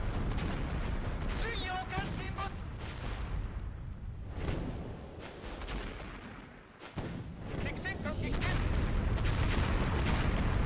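Battleship gunfire in the WWII naval strategy game Teitoku no Ketsudan 4, a dense barrage of booming blasts and rumbling explosions that runs nearly nonstop, with a short lull midway, while someone talks over it.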